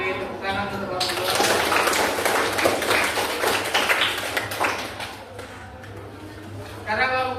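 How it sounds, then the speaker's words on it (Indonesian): A classroom of students claps for a group for several seconds, a dense patter of hands that thins out, with a voice speaking around it. "Kita beri tepuk tangan untuk kelompok 2."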